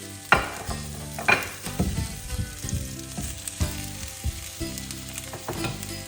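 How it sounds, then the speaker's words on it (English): Fresh pearl onions sautéing in a pan for coq au vin, a steady close sizzle punctuated by sharp knocks and scrapes of stirring roughly once a second, with no one speaking. "now we're gonna saute the pearl onions"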